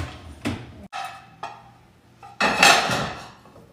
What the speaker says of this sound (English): Now I need to do the dishes.